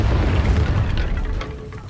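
A Confringo blasting spell explodes in the Hogwarts Legacy video game, a loud, dense low rumbling boom with crackling bursts that sustains through the moment before easing slightly toward the end.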